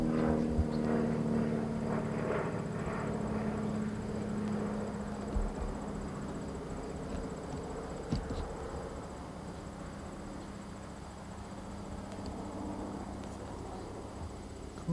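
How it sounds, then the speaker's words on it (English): An airplane passes overhead with a steady droning hum that slowly eases off, heard alone against faint outdoor insect chirping. "I think that's Dad's plane."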